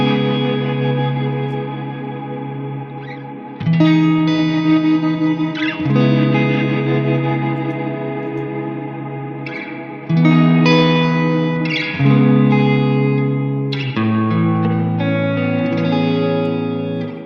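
Guitar played through a Strymon BigSky MX reverb pedal on a stock preset with a chopping effect added, sustained washy chords rhythmically sliced, with loud new strums every couple of seconds and no talk.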